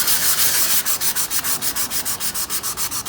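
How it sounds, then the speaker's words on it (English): Fast rhythmic sanding scrubs black leaky-battery stains inside an equipment case, loud close rasping strokes at an even back-and-forth pace with nobody talking. "So I'm going to try and sand them out"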